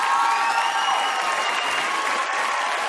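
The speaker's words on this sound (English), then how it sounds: "Give him another round of applause as we bring him over." Audience applause fills a television talent-show studio as a three-year-old climber is brought over. The clapping is loud, dense and steady throughout, with no speech over it.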